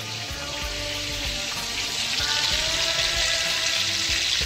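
A shoulder of lamb or venison browning in a hot pan gives a steady, loud sizzle and crackle that runs unbroken throughout, close up.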